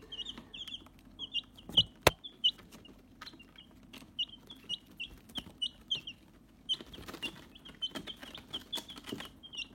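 Young Ameraucana and blue Andalusian chicks peep and cluck inside a brooder bin, many soft high chirps overlapping in a busy, faint chorus with occasional light scuffling and a sharp knock.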